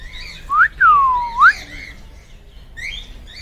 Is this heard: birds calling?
yes